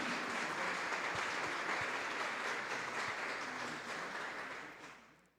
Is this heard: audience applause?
yes